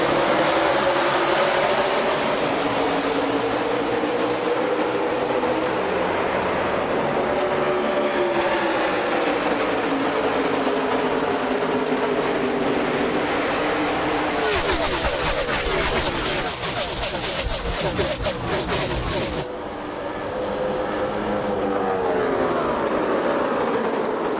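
NASCAR stock cars roaring off at the green-flag start of the 2016 Ford EcoBoost 400 at Homestead-Miami Speedway, a dense continuous engine drone with a pack sweeping past loudly midway, under crowd-wide ambience.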